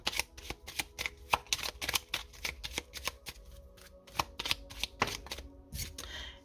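Lenormand cards being shuffled by hand, a rapid run of crisp riffling snaps and flicks with short pauses, close and fairly quiet, with no talking.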